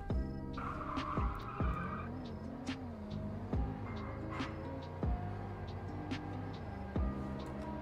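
A 2022 Reload car in a video game speeds up from a standstill, engine note rising and dropping through repeated gear shifts over continuous road noise with a tire squeal.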